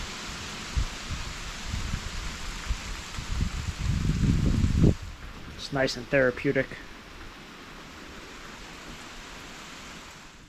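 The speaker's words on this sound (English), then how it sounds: "It's not pouring, but it's like a summer shower." Steady hiss of light summer rain falling, with a burst of heavier rustling patter midway and a person briefly speaking afterward.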